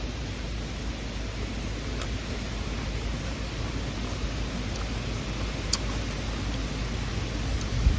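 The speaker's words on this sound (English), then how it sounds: "I hope this wind is not too loud, y'all." Steady wind rushes and rumbles across the mic without a break for the whole stretch, with no voices.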